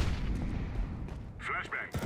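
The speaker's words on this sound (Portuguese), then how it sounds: "Throwing flashbang." A flashbang grenade goes off in Counter-Strike with a sharp concussive bang amid busy gameplay noise, followed by a brief ringing tone and a couple of softer impacts.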